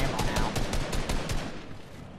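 Rapid bursts of gunfire from the video game Fortnite, a fast rattling string of shots at fairly steady loudness that thins out toward the end, with no speech over it.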